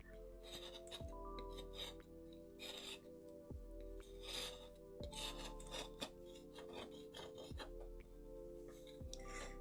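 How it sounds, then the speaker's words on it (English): Scraping dried and tacky oil paint off a palette makes close, repeated rasping strokes with occasional clinks, steady and intimate with no talking. "Palette scraping ASMR."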